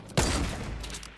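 A single loud sniper rifle shot in Fortnite Battle Royale cracks sharply, then trails off in a long, fading echo with no other sounds around it.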